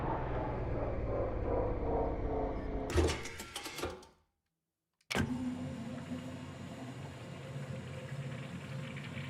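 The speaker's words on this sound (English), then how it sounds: "It sounds just like filling up a truck, but in space." Truck refuelling effect in a space trucking video game: a steady mechanical whirring and hum that stops with a clunk, a short silence, then resumes as a continuous filling drone.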